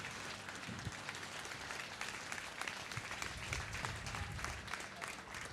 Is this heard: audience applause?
yes